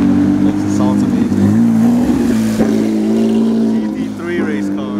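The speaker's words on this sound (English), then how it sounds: "GT3 race car." A GT3 race car engine drones loudly and steadily at a Super Lap Battle track day, rising and falling in pitch as it revs, with talk underneath.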